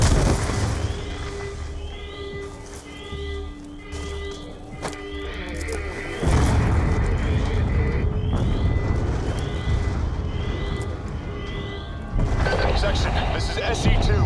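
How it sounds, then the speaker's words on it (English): Explosions and gunfire rumble through a facility in the video game Call of Duty Black Ops 2, with repeated booms and rattling shots layered under radio-style voices and a dense, sustained roar. "We're monitoring multiple explosions across the facility."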